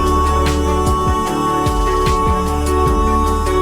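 A music track: a sustained harmonic bed with gliding, swooping tones and a steady pulse, playing loud and close with no talking over it.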